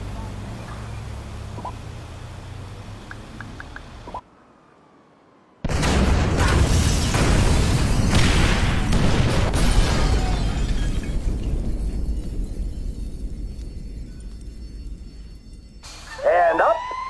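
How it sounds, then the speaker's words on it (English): A loud explosion as detonated incendiaries go off in a GTA V heist, a sudden broadband blast after a short silence that rumbles on and slowly fades, with a second burst near the end. "Detonate the incendiaries, Frank."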